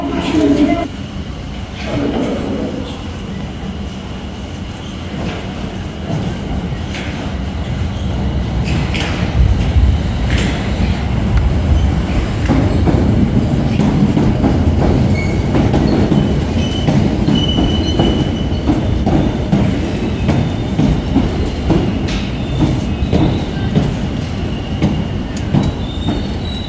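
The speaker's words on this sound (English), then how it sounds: "So I think our next train is going to appear right behind me in a couple of minutes' time." A London Underground train pulls into a station, building from a distant rumble into a loud, close roar with clattering wheels and squeals, mixed with voices and platform chatter throughout.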